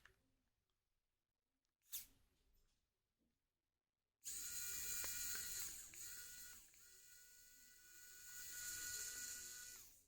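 A Xiaomi WowStick 1F+ electric screwdriver runs after a few quiet handling clicks, giving a steady high-pitched motor whine that holds for several seconds with slight shifts in pitch, close and clear.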